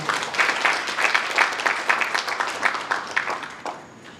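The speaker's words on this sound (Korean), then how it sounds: "다시 한번 뜨거운 박수 보내주십시오" A hall audience at an industrial complex investment briefing in Haenam gives warm applause for a lawmaker's congratulatory message, brisk clapping that holds steady and then tapers off near the end.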